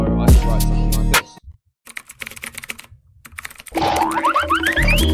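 Close keystrokes on a computer keyboard typing into a notepad, bursts of quick clicks separated by a near-silent gap, over a loud drill beat with rising synth tones.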